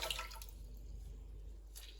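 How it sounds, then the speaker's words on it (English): Rinse water drips and trickles as a wet wool garment is squeezed out by hand, a soft close dribble of liquid that fades to near silence before a brief final squeeze. "I'm going to squeeze it out again by hand."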